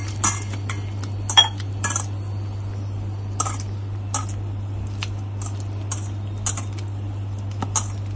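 A spoon clinks and scrapes against a bowl in short irregular bursts while kulith (horse gram) flour batter is stirred to break up lumps, close and fairly quiet over a steady low hum.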